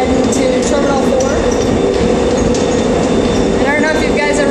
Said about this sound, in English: I don't know if you guys ever seen a Sky train before